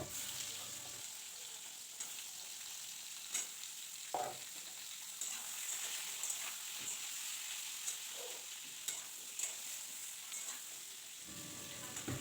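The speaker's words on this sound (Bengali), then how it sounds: "এবার আমি মিষ্টি কুমড়ো আর বেগুনটা দিয়ে হালকা ভাজা করে নেব" Pumpkin and eggplant fry in oil with a soft, steady sizzle, broken by occasional scraping and stirring knocks from a spatula.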